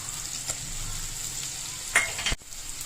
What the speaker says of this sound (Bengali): আমি খালি কড়াতে একটু আলুগুলো একটু ভাপি মতন বা একটু হালকা করে ভেজে রাখার মতো নিচ্ছি